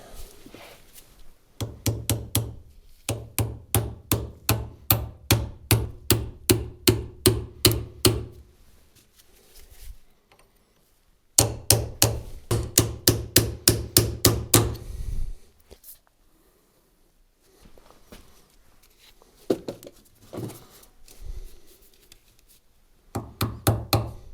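Rapid bursts of sharp metallic hammer strikes on a roll pin in excavator pilot controls, in two long runs, each blow ringing briefly, then a few scattered taps amid quiet.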